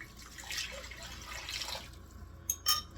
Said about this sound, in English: And then I'll pour that directly into the crock pot.